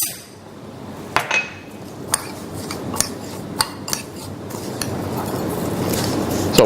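Japanese breadcrumbs, chopped rosemary and thyme, and melted butter are tossed together in a bowl, giving a run of light clinks and taps from a utensil against the bowl over a soft, rising rustle, close and moderately loud with no talk.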